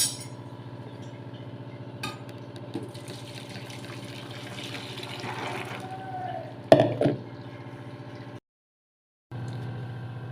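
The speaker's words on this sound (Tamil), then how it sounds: "இப்போ வந்து தண்ணியை வந்து வடிகட்டிக்கலாம்" Water from pressure-cooked food being poured off and strained in a home kitchen, a steady running trickle with a sharp metallic clink of the vessel partway through, a brief pause, then the flow resumes.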